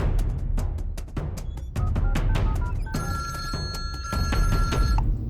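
A telephone rings on an outgoing call to a police officer in a Hindi-dubbed South Indian action film: a steady, bright electronic ring tone enters partway through and holds over a busy bed of music and effects.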